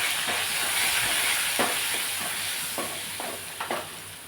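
Cumin seeds and curry leaves sizzle in hot oil with a continuous bright hiss, broken by a few sharp crackles and soft stirring scrapes close by.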